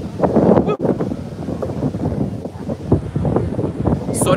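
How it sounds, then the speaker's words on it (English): Gusty wind buffeting the microphone outdoors on a city walk, a steady low rumble running the whole time with one sharp dropout, while people talk over it. "it's a bit windy here, so you might hear the wind"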